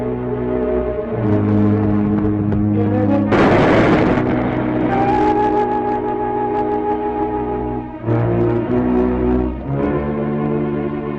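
A battle scene from a vintage Captain Video science-fiction serial: one loud, broad blast of gunfire or artillery bursts through for about a second, over a continuous orchestral score.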